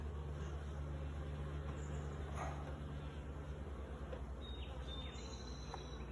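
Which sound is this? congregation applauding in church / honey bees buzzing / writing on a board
honey bees buzzing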